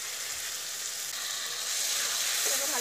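Spices for egg curry, chili powder and turmeric, sizzle in hot oil in a pan while being stirred and fried, a steady bright hiss that swells slightly toward the end, with no talking.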